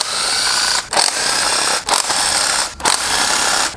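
A ratchet wrench working spark plugs out of a car's M42/M44/M47/B21/K24 hybrid engine, giving a steady close-up clicking whir broken by three short pauses, with no talking.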